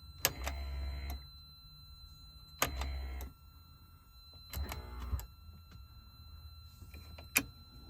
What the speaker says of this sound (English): You can hear the vent operation.